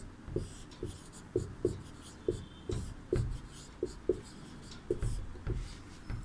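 Chalk or marker writing words on a board in a classroom: a steady series of soft taps and scratching strokes, close and fairly quiet, with faint speech in the background.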